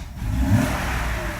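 A Mercedes 500E W124 engine cranks and struggles to start, giving a steady, close mechanical whirring churn that never catches, heard alone.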